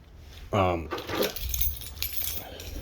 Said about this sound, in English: let me grab my keys so I can show you